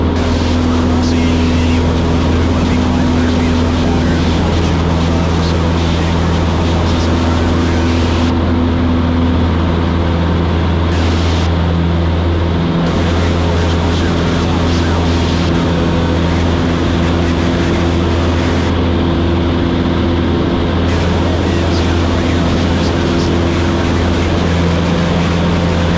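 Steady engine drone of a small airplane climbing in flight, with a strong low hum and propeller-like tones, continuous throughout, heard from inside the cabin.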